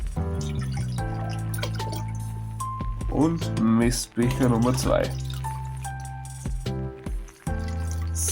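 Water poured from measuring cups into a container, a steady trickle and splash under music, with a person talking over it.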